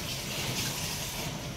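Spice water poured into a pan of cooking chicken, a brief continuous gush of liquid heard up close, steady and fairly loud for a second or two.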